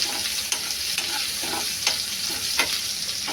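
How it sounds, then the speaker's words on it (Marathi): Chopped onion fries in a pan and is stirred, giving a steady close sizzle with soft scraping strokes at a regular rhythm and no talking. "थोडासा ढवळून घ्या कांदा, म्हणजे भाजेल लवकर."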